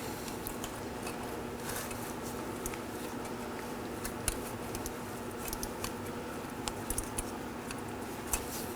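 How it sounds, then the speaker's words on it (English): A ratchet with a 10mm socket works on a vehicle speed sensor bolt on a 2013-2019 Nissan Sentra 1.8L L4, producing a quiet, steady stream of fine clicks with a few sharper ticks over low background noise. "I'll grab my ratchet."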